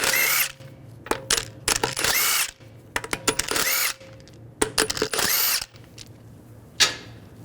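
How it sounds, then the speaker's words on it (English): Power tool spinning lug bolts out of a 2009-2017 Volkswagen Tiguan wheel with a 17mm socket, in several loud bursts of whirring with short pauses and clinks between them. "Using a 17mm socket, take the lug bolts out"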